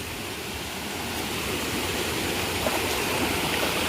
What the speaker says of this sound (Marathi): जबरदस्त धबधबाच बनला डायरेक्ट पुढे जाऊन